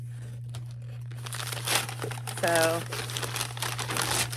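Plastic packaging of a polishing cloth crinkles and rustles close by, in irregular bursts with a brief tearing sound, while someone talks over it.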